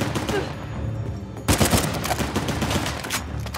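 Video game gunfire from Uncharted: The Lost Legacy, with dense bursts of shots and a sharp louder volley midway, continuing as rapid fire with a busy background of combat noise.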